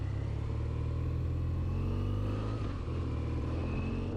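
A 2025 BMW R12 G/S motorcycle is ridden on an open road, its engine a steady mid-pitched drone with a slight pitch change as it shifts gears through the quick shifter, no speech.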